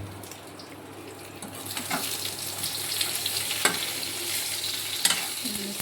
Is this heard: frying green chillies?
yes